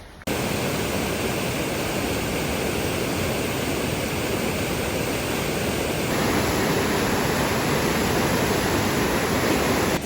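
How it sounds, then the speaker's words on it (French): A waterfall in New Zealand's Bay of Plenty roars as a dense, steady rush of falling water, loud and close, with no breaks for its full length. "Deuxième cascade"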